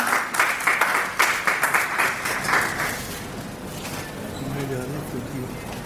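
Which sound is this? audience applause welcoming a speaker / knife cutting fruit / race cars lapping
audience applause welcoming a speaker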